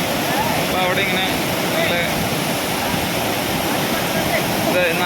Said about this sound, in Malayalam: നല്ല രീതിയിൽ ഈ വെള്ളച്ചാട്ടം ഇങ്ങനെ ഉണ്ട്